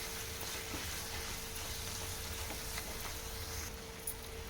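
Meal maker tomato curry with salt, chili powder and coriander powder sizzles and bubbles in a pan, a steady, even frying hiss with a faint constant hum behind it.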